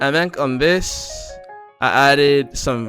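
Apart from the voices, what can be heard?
No everyday noise stands out behind the speech.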